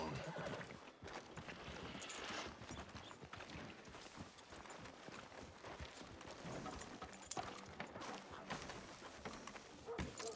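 Horse hooves clip-clopping in the Red Dead Redemption 2 video game, a steady walking rhythm of hoofbeats with occasional whinnies, fairly faint and under game dialogue and ambient birds.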